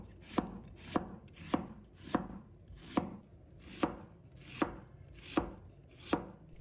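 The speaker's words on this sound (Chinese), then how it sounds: "准备适量的洋葱，把它切成丝。" An onion is sliced into strips on a board, a series of about eleven crisp knife thuds in a steady, even rhythm, close and clear with no talking.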